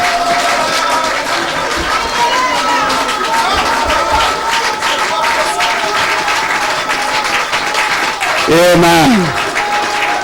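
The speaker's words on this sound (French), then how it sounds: "Acclamons encore très fort le Seigneur." A church congregation applauds steadily throughout, dense continuous clapping with a crowd texture, while a voice speaks and sings over it and a brief shout rises near the end.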